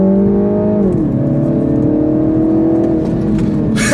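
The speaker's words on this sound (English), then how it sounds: "Give it some juice, and boom!" A 2015 MINI Cooper S engine revs loudly and climbs in pitch as it accelerates hard from a standstill on a track, tires spinning, a strained continuous roar close by, ending with a burst of hiss.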